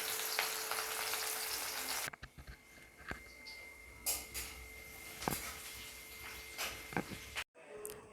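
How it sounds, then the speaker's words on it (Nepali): Onions fry in oil in a pan with bay leaf for Nepali-style goat rakti. A strong sizzle runs at first, then drops to a quieter crackle broken by a few sharp clicks and knocks. "साथीहरू, प्याज राम्ररी खरिसकेको छ।"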